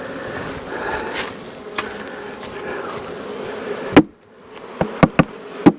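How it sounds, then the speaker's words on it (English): Honey bees hum around hive frames during colony combining, a soft steady buzz with a few sharp knocks and clunks of frames being handled near the end. "we still got some frames of bees right here"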